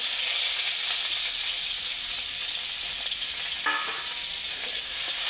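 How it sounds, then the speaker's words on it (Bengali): Onions frying in oil that had just been used to fry potatoes, a steady bright sizzle throughout with a brief burst of stirring near the end, close and continuous with no talk. "আমি ওই তেলেতে পেঁয়াজ দিয়ে দেবো"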